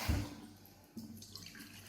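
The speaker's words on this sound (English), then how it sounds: "So I usually just wash like this, very softly rinse." Rice being gently rinsed with water, with a soft swish and splash at the start and then quieter trickling and light water movement, close and faint.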